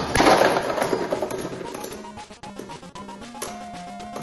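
Spinning tops in a Beyblade battle, one bursting apart: a burst of loud clattering impacts at the start, then scattered lighter clicks and rattles as pieces settle, with a faint tone underneath and no talking.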